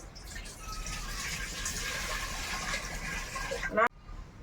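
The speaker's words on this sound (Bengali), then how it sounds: "এবার বন আলুটা সেদ্ধ করব এক বাটি জল দিব" Water pours into a bowl to boil wild yam, a steady close gush that rises in pitch as it fills, then stops abruptly near the end.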